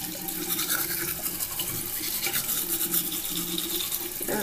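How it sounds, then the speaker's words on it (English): A toothbrush scrubs teeth with a steady, close, wet bristly rasp that continues unbroken for a few seconds. "I'm gonna brush my teeth."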